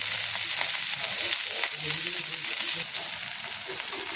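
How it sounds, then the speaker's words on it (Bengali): Prawn paturi wrapped in bottle gourd leaves fries gently on a low flame, giving a steady, continuous close sizzle with faint stirring and no voices. "আলতো আঁচে ভাজতে হবে, আস্তে আস্তে করে ভাজতে হবে, গ্যাস কমিয়ে।"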